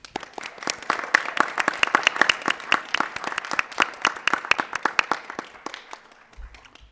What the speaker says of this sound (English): offer him also a round of applause